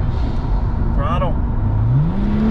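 Car accelerating at an SCCA autocross event, a loud constant engine drone with the pitch climbing toward the end, heard from inside the car, with a voice speaking briefly over it.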